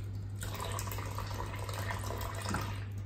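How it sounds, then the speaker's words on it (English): Water sprinkled from a tap onto the palm of a goalkeeper glove while washing it, a steady close splashing and trickle running throughout with a faint low hum beneath. "now I'm gonna sprinkle a bit of water onto the palm"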